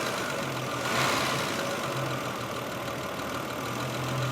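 A Triumph 2500TC engine idles steadily after a throttle blip, a low even rumble with a slight swell near the start as the revs settle back down.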